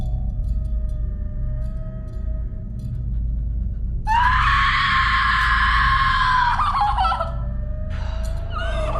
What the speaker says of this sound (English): she gets the classic scream in this movie